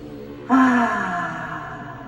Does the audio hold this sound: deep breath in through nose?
yes